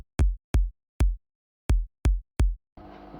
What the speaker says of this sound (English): if I turn this off, the kick sounds like this